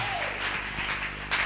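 A church congregation applauds for Jesus in a brief burst of clapping, steady and moderately loud, with a faint voice beneath.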